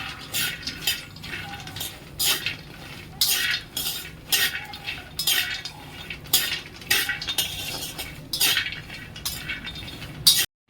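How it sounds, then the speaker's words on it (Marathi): Pistachios and cashews roasting in a pan for dry fruit ladoos, stirred with a metal spoon that clinks and scrapes in quick, uneven bursts, close and fairly loud, with a faint sizzle underneath. "एक वाटी पिस्ता आणि एक पाव काजू हेही छान परतून घेते"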